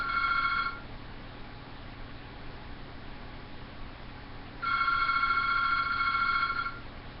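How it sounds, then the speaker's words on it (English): A phone rings with two electronic trilling bursts, one short at the start and a longer one near the end, heard against a steady hiss with a quiet gap in between and no speech. "someone's ringing my phone right now."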